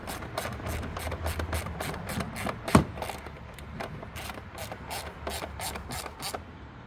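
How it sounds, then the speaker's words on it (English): Screws on a Mini Countryman S air filter cover are tightened with a ratchet, giving rapid, regular clicking bursts close by, with one brief sharper clunk midway. "Tighten up the screws."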